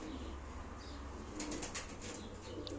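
Pigeons at a live pigeon auction flap their wings in short bursts of fluttering, close by, over a steady background hum, with soft coos mixed in.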